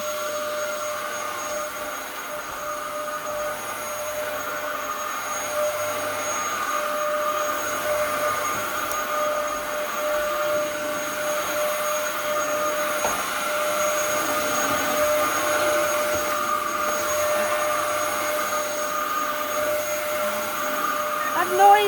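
A vacuum cleaner runs steadily and loudly throughout, with a constant whine and airy roar that never lets up.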